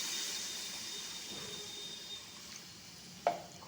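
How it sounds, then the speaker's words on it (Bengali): Water poured into a pan of hot, spiced vegetables that have been fried down in masala, giving a steady close hiss and sizzle with a sharp burst near the end; no one speaks. "এবার এর মধ্যে আমি পরিমাণ মতন জল দিয়ে দেবো।"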